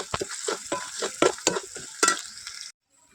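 Potatoes and curry leaves fry in a pan under rapid, rhythmic stirring strokes over a bright sizzle, which stops abruptly near the end.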